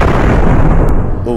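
Rifle shot in the hunting video game Cabela's Big Game Hunter 2012, a loud booming report with a dense, sustained low rumble filling the moment, followed by a brief tonal tail.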